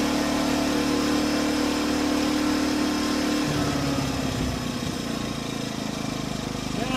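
A small engine runs housed inside a recycled tool box, venting its exhaust out the side, a loud, steady mechanical drone whose tone shifts and roughens partway through.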